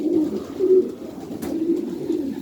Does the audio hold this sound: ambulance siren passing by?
no